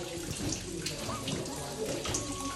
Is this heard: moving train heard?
no